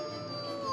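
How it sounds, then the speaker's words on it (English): A wolf howls in a steady, sustained tone from a storybook tale, with no speech over it. "The wolf began growling and howling"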